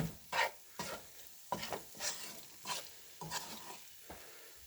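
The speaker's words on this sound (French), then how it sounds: "on va ajouter 60 grammes de beurre. Hop, on laisse bien fondre notre beurre." Sixty grams of butter melts in a pan for Turkish bulgur pilaf, with rhythmic stirring scrapes recurring about every half second over a faint, quiet sizzle, and no voices.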